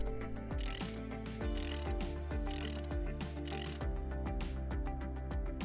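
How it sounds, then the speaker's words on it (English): A ratchet torque wrench turns an injector extractor socket on a Ford EcoBlue 2.0 diesel, giving repeated clicking ratchet strokes in a steady rhythm, close and fairly loud with no talking. "If the injector is particularly stiff, then use a socket and torque wrench set to a maximum of 250 Newton meters"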